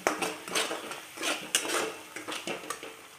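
A spoon stirring red chili powder into a mutton fry, metal clinking and scraping against the pan in a steady string of short strokes, close and moderately loud.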